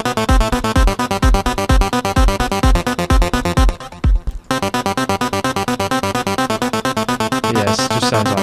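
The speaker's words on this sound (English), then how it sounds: "So yeah, that's what the synth sounds like at the moment with those" A Thor synth patch in Reason plays a short three-note MIDI stab pattern, bright layered chords repeating in a steady rhythm, loud and continuous with a brief dropout near the middle.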